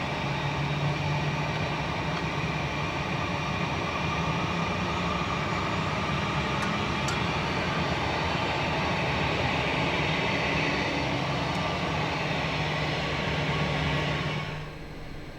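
A steady, loud jet engine roar with a high whine from an Embraer Phenom 300E starting up, holding constant before tapering off at the end.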